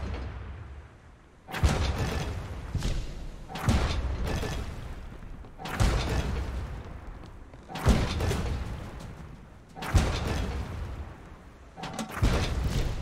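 Bomb launcher in the naval combat game Blazing Sails firing repeatedly, about six loud booming thumps spaced roughly two seconds apart, each with a broad crackling tail, with no talking.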